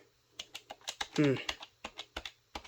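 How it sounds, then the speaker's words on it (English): Sticky keys on an old desktop computer keyboard clack in uneven, distinct presses, close and fairly loud, with a brief voice murmur breaking in partway through. "Keyboard, the buttons are a little sticky"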